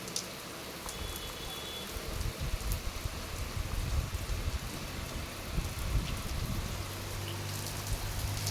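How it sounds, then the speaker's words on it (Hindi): Heavy rain pours steadily outdoors, a dense, continuous hiss of drops drumming on surfaces with no voices, holding loud and even throughout. "अच्छी खासी बारिश हो रही है।"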